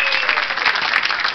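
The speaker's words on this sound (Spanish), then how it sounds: "Un aplauso para ellos, por favor" A studio audience claps in a brief, dense, even burst of applause.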